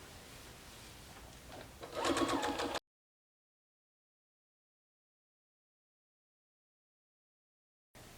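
A sewing machine stitches quilt fabric in a short, fast-pulsing mechanical burst of under a second, after a low background hum, then cuts to silence.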